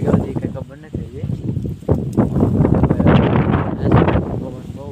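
Strong wind and rain gust outdoors in a coconut and sapling grove, roaring steadily and loudly across the microphone while people talk over it.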